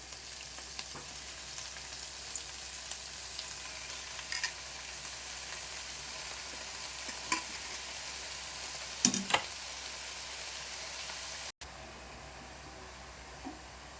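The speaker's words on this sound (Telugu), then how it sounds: "మనం కట్ చేసి పెట్టుకున్న ఆకేసేద్దాం" Chopped leafy greens sizzle with onions in a frying pan, a soft steady hiss with a few faint clicks and scrapes, quiet and continuous with no talking.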